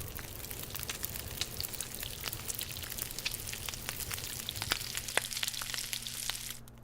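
Food sizzles over a campfire in the survival game The Long Dark, a steady crackle with quick pops at close range that cuts off abruptly at the end.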